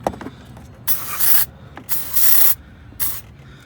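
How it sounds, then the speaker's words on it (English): Three short, hissing bursts of penetrating fluid sprayed on bolts of a 2008 Ford F150, close by, separated by brief pauses with faint mechanical clicks between them. "I'm just going to take and spray some penetrating fluid on the bolts."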